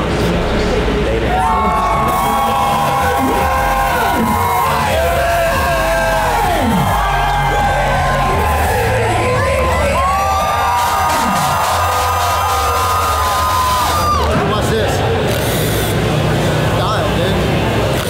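Dense crowd of fans at a Supercross SMX playoff round in Texas, with yells, whoops and cheering rising and falling throughout, loud and close, mixed with nearby voices.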